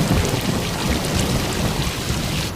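Heavy rain pours steadily with deep rumbling thunder rolling underneath, loud and continuous throughout, no voices.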